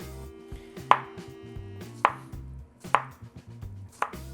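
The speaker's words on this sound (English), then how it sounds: "there is a very big bone inside the mango, so I have to be very careful when I cut it." A knife cuts through a mango on a board in four separate sharp chops, spaced about a second apart, close and clear with no talk.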